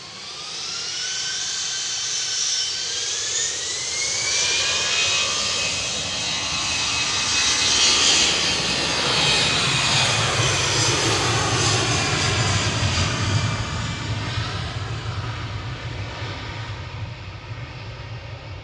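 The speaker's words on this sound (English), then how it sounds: "You can see number 2 starting now, spinning away." Jet airliner engines spool up one after another at Manchester Airport, a loud continuous roar with rising whines that builds and holds steady, heard from fairly close by.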